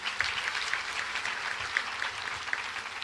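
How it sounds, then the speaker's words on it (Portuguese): A crowd at a Padre Cícero pilgrimage Mass gives a warm, sustained round of applause, dense steady clapping at moderate loudness throughout with no voices over it. "nossa gratidão com uma calorosa salva de palmas"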